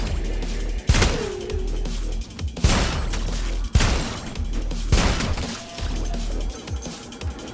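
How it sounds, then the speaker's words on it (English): Full-auto gunfire in the shooter game Sulfur, several sharp loud bursts of rapid shots spaced about a second apart over a rumbling backdrop, close and punchy. "I can't be full auto firing like we did the entire time"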